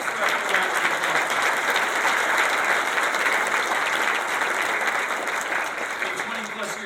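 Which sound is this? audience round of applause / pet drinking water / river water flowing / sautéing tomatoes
audience round of applause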